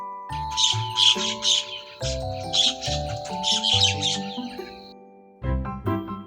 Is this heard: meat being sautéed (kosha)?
no